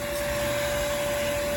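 Steady, close suction roar of a vacuum hose pulling debris from a central air conditioning condenser unit during maintenance, with a constant whine and no pauses.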